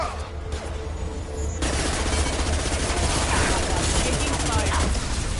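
Loud, continuous automatic gunfire and bursts of shots in a Mass Effect 2 firefight, dense and unbroken throughout, with voices faintly under the combat.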